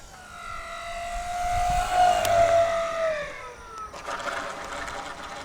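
A Precision Aerobatics Katana 52-inch balsa RC aerobatic plane comes in to land at reduced throttle, its propeller whine gliding smoothly downward in pitch, fairly close, before settling into a softer, rougher buzz near touchdown.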